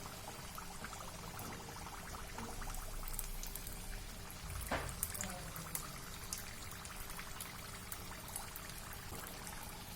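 Onion samosas sizzle steadily in hot oil in a home kitchen, giving a soft, continuous bubbling crackle with a few sharper pops and a brief clatter partway through.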